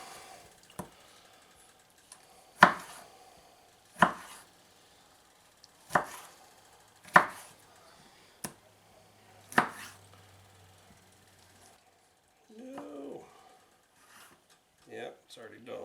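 A knife chops tomatoes on a board in a home kitchen, giving a series of sharp, well-spaced thuds close by, with a few quieter taps and a short voice near the end.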